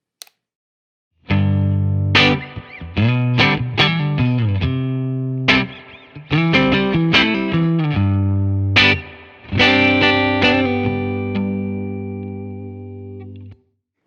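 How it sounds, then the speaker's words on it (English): Fender Jaguar electric guitar played through its neck pickup, loud and close with a distorted, chorus-tinged tone: a run of picked notes and chords in bursts with short gaps, the last chord ringing out to silence. "Let's hear what the neck pickup sounds like."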